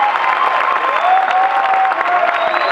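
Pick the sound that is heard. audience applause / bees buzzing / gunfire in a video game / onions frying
audience applause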